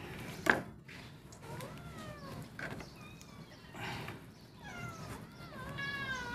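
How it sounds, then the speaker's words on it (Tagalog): Several cat meows, some rising and wavering, come from more than one cat over a low background hum, with a sharp knock near the start. "Marami tayong alagang pusa guys. Maingay. Nag-iingawan ng mga pusa."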